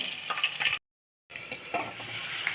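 Ivy gourd sautéing in oil in a pan, a steady close sizzle with light stirring scrapes, broken by a brief silent gap before the frying resumes.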